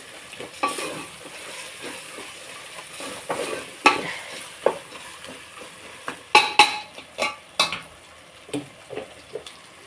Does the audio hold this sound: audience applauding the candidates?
no